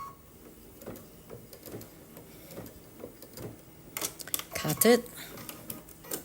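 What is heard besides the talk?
sewing machine stitching a quilted pincushion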